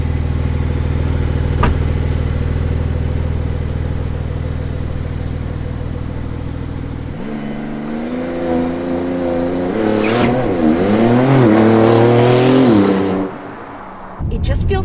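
A Porsche 911 Turbo S engine idles with a steady low rumble, then rises into rising and falling revs as the car pulls away and accelerates, loud and close, ending with a sudden drop.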